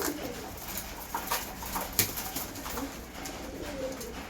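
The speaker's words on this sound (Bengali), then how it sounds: "এই যে পায়রাকে দানা দিলাম, খাচ্ছে" Pigeons pecking at grain feed, with soft repeated taps and scuffles mixed with low cooing from the birds nearby, all fairly quiet and with no talking.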